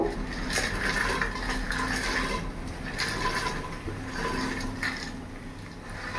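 Fried boondi tipped into hot sugar syrup, a continuous watery rushing and bubbling wash with a few brief scraping knocks, close and steady, with no talking.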